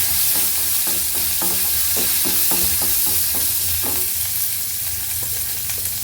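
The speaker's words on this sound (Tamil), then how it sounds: "சாம்பார் வெங்காயம் அதை போட்டுட்டு நல்லா வதக்குங்க." Small sambar onions sautéing in a pan for a pirandai kara kuzhambu, a steady close sizzle broken by repeated scraping stirs of a spatula, with no voices.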